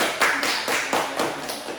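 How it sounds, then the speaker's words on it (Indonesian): A small classroom audience claps for a student, a brief run of soft, evenly spaced claps heard close and clear, with no talking. "Beri tepuk tangan untuk Mbak Hanum"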